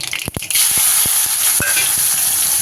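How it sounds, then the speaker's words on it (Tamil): Small onions hit hot oil with popped mustard seeds for more kulambu, a loud close sizzle that flares up suddenly, with a few sharp knocks from stirring. "கடுகு நல்லா பொரிஞ்சிருச்சு இப்போ வந்து நம்ம சின்ன வெங்காயம் சேர்த்துக்கலாம்"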